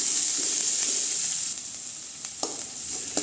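Onions and curry leaves sauté in a pan with a bright, continuous hiss of frying oil, broken by a few light scrapes and stirring knocks near the end.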